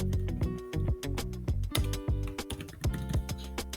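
Close, crisp keystrokes on a computer keyboard in a quick uneven rhythm, several taps in bursts as text is typed, with no speech.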